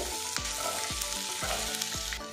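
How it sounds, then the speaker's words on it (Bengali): Snake gourd frying with garlic and chili in a pan on high heat: a steady, close sizzle broken by about four dull knocks of a spoon stirring against the pan. "গ্যাসের হিট একদম হাইতে রাখবো, রেখে চিচিঙ্গিটা আমি ভাজা ভাজা করে নেব।"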